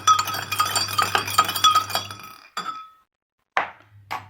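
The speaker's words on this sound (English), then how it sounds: "let's put some pebble in the glass and just again stir it well" Pebbles stirred with a spoon in a glass of water: rapid clinking and rattling against the glass for about two seconds, then a few isolated sharp clinks separated by silence, close and clear.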